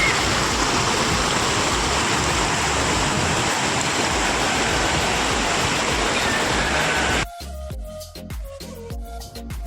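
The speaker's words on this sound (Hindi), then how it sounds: "एकदम साफ क्रिस्टल पानी बह रहा है।" Clear river water rushing near a waterfall on the way to Shiv Khori, a loud steady roar that fills the first seven seconds, then drops away to a quieter, patchier trickle.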